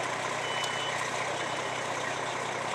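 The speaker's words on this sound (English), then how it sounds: "Smoke detector's going off." A smoke detector beeps steadily during a live burn demonstration with the room above 600 degrees, under a constant roaring background, the tone pulsing evenly and fairly loud throughout.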